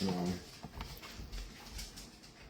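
An excited dog whimpers in a brief high whine at the start, followed by soft shuffling and quiet handling noises nearby.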